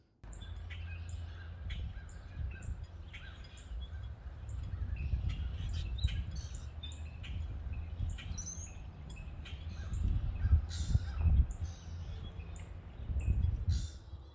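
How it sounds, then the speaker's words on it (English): Many birds chirp and call throughout in an early spring park, overlapping tweets and squawks over a low rumbling background, steady and fairly distant. "it sounds like spring, a little bit at least, with all these birds"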